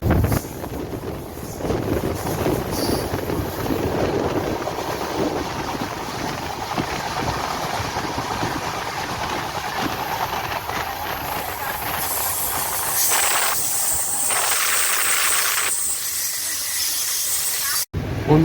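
The Chambal Express stands halted at a station, with a steady broad rumble and hiss from the train and wind buffeting the microphone, a sharper hissing burst rising toward the end.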